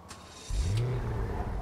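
A car engine in a GTA video game revs up suddenly partway through, rising into a loud, steady drone as the vehicle drives, after a quieter, low rumbling start.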